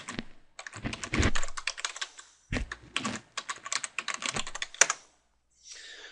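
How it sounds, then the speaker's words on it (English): Rapid typing on a computer keyboard while entering an email address and password during Ubuntu One sign-in, dense bursts of close keystrokes with brief pauses, ending in a short faint patch. "Go ahead and enter in your email address and your password."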